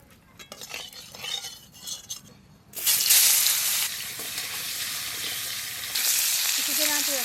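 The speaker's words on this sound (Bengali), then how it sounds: "মাছ ভাজা তেলের মধ্যে আর একটু তেল দিয়ে আলু ভাজিয়ে নেব।" Potatoes frying in oil left over from frying small fish in a home kitchen, starting with quiet clinks and scraping before a loud, steady sizzle breaks out and continues, with pan and utensil sounds.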